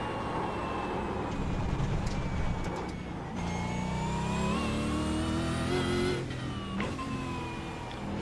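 A race car in a racing video game laps the Sandown circuit, its engine droning steadily with rising and falling pitch as it shifts gears and sweeps past the grandstand, loud and continuous.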